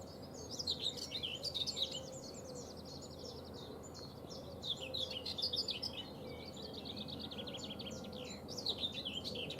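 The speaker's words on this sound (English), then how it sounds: "Can you hear the bird song?" Birds sing steadily in the countryside near Winchelsea station, with bright chirps and trills repeating throughout, moderately faint over a low, continuous background rumble.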